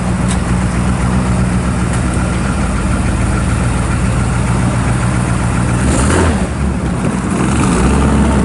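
A 1955 Chevrolet Bel Air two-door post idles steadily, its exhaust rumbling loud and close from the rear with a brief light rev near the end and no talking.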